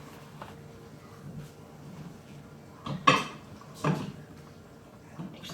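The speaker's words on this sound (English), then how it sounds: "Lids on there nice and tight." Lids clapped onto microwave dishes holding deep dish apple pie, heard as two short, fairly quiet plastic clacks a second apart against a soft room hush.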